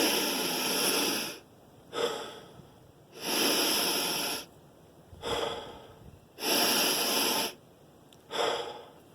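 Deep, rapid breathwork breathing in strong forceful breaths, loud and close, alternating long rushing inhales with shorter exhales in a steady repeating rhythm, with no talk.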